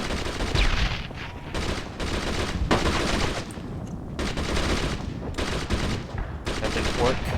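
Gunfire in the World War II shooter Brothers in Arms, with sustained bursts of rifle and machine-gun fire crackling in repeated volleys, loud and near, with brief gaps between bursts and voices shouting intermittently.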